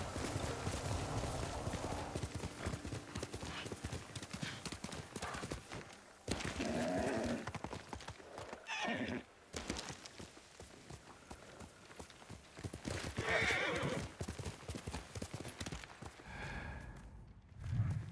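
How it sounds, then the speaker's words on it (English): A horse in Ghost of Tsushima gallops with rhythmic hoof clip-clop and snorts through a longer stretch, with a short neigh and breathy game sounds over steady background ambience. "Horse."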